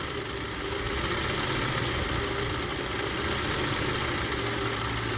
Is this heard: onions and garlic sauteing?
no